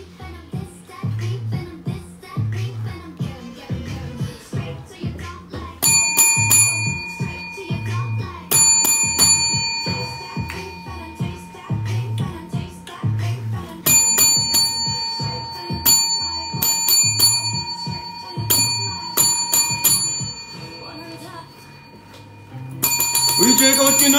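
Bright bells ring in repeated clusters of quick dings through a lively recording, over constant background talk with voices speaking throughout.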